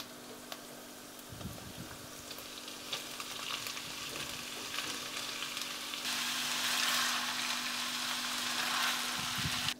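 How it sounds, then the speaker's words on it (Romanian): Steady sizzling of meat frying in a pan for kulebyaka filling, with occasional stirring clatter; the sizzle grows louder and brighter toward the end. "Cărnița o prăjim îndată."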